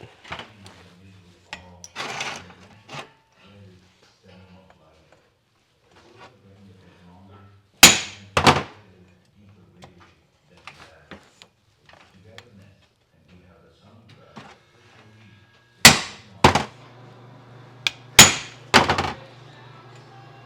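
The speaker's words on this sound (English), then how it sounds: "take this little punch and the hammer and just peen it in a few spots" Sharp metallic taps of a hammer striking a small punch to peen metal, in small clusters of two or three quick strikes separated by quiet pauses, with faint background voices and a low hum between.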